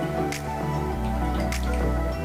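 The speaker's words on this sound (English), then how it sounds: "Now we're gonna allow the excess water to drip." Excess water drips off boiled pretzel dough pieces in a home kitchen, giving loud, close wet drips and squishy splats against a steady humming background, with a few sharper drops standing out.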